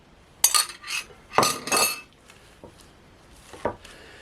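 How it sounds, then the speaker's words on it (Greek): Hot potatoes being mashed with 100 grams of cold butter in a pot for a homemade crustless potato pie: several close, uneven bursts of a utensil scraping and clinking against the pot, with short pauses between strokes and no talking. "Τις λιώνουμε όσο μπορούμε πιο πολύ."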